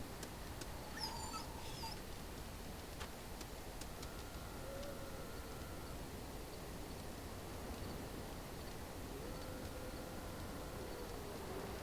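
Dog whimpering in the fantasy role-playing game Dragon Age Origins, soft whines near the start over a steady buzzing, insect-like ambience that runs throughout.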